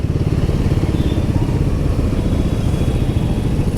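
Royal Enfield Guerrilla 450 motorcycle ridden at low speed, its engine giving a steady, loud, close thumping putter with a rapid even pulse and no voices over it.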